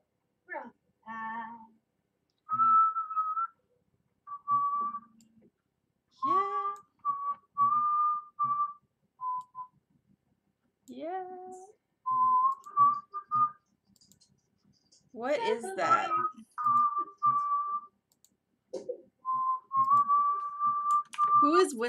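A person whistles a slow, mournful dirge in separate sustained notes and short phrases, clear and close, with brief speech from others in between.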